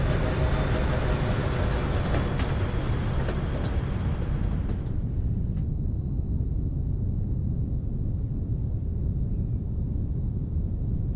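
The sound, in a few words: train arriving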